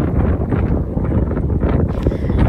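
Strong wind buffets the microphone on a hilltop viewpoint in Myagdi, Nepal, a loud continuous rumbling roar with gusty swells throughout and no talking.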